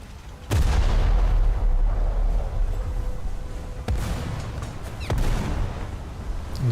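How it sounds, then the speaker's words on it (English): Shells strike the front turrets of the warship Mogador in a naval video game: three sharp, booming impacts land seconds apart, each trailing a low rumbling decay over constant engine drone. "I'm not even sure what exactly is shooting my front turrets."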